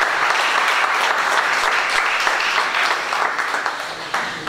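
A crowd at a book presentation in Casapesenna applauds an author, giving loud, sustained clapping that thins slightly toward the end, with no voices over it.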